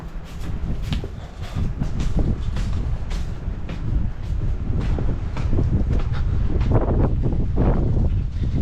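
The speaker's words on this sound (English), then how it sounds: "It is windy." Strong gusty wind buffets the microphone on a farm in irregular low rumbling bursts, loud and continuous throughout.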